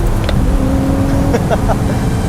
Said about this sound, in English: this car just has so much pull. It sounds good too.